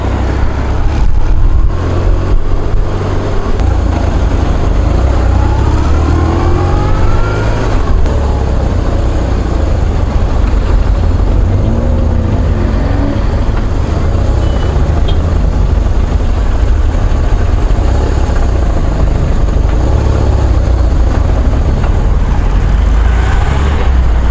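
A BMW R1100RT motorcycle riding on the road, with a steady, loud engine drone and rushing wind noise that hold constant throughout and never let up.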